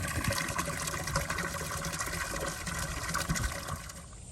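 Water runs steadily from a fitting twisted into place and pointed down for watering animals, a continuous close splashing flow that fades slightly near the end.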